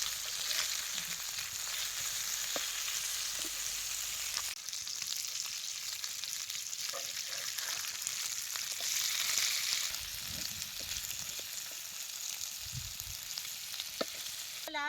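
Small pieces of fish fry in oil on a flat pan, giving a continuous bright sizzle with occasional soft scrapes and turning sounds across the whole stretch, and no voices.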